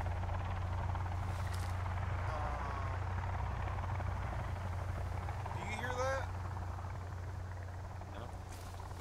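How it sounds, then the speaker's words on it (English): A steady low helicopter rotor drone from the video game Sons of the Forest rumbles throughout, with brief rising electronic tones and faint voices mixed in over it. "I hear a helicopter, dude."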